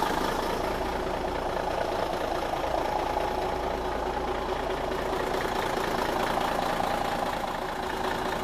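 An old tour truck engine idles while running on only five cylinders, a steady uneven rumble that carries on alone without a break.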